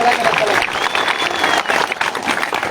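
Crowd applause at a farmers' protest rally, a steady wash of clapping that carries on throughout while a voice talks over it.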